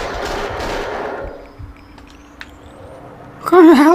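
Burst of gunfire from the video game Max Payne 2 The Fall of Max Payne, rapid shots loud at the start and then fading into a quieter stretch with a few isolated pops before a sudden loud noise at the end.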